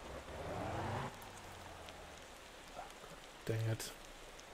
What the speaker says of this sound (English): The rain, of course, doesn't help this in the slightest.